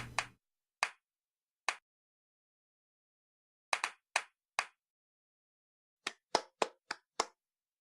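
Sharp single hand claps, close and dry, first spaced widely, then a pair, then a quick run of five near the end, with silence between.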